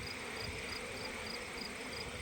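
Honey bees buzz around a hive close by, a steady, continuous, layered hum, with a faint regular chirping pulse in the background.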